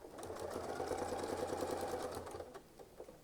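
A sewing machine stitches a quilt motif in a fast, steady whirring run that stops near the end, leaving a few faint clicks, close and alone.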